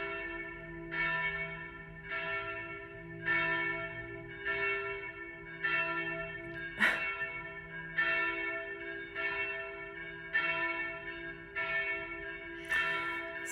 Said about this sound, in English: The bell rings for a long time, especially on Sunday, because there's all these amazing church services.